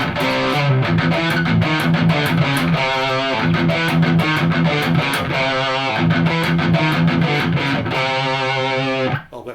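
A heavy distorted electric guitar through a Blackstar HT Club 40 amp on its overdrive channel plays a chugging metal riff with tight palm-muted rhythms and ringing chords, loud and continuous, with no voices.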